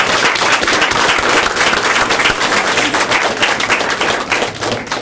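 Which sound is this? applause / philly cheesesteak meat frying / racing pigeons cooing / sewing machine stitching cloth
applause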